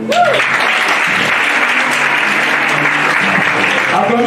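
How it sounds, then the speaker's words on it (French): Sustained applause fills a wedding ceremony, dense steady clapping from a crowd at even loudness throughout, with faint voices mixed underneath. "Acclamez encore, acclamez."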